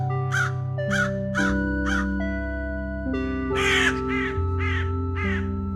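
A crow caws repeatedly, first four evenly spaced harsh calls and then a louder cluster of four more, over soft steady background music.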